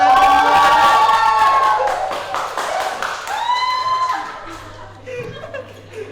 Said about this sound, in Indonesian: Mana suaranya dan tepuk tangannya?